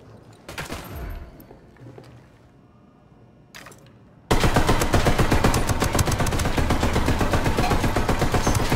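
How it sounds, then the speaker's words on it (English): Automatic gunfire in the open-world shooter Tom Clancy's Ghost Recon Wildlands starts abruptly after a few quieter seconds, then keeps up a loud, rapid, sustained rattle of shots to the end, close and with no talk. "I'm opening fire on these shitheads"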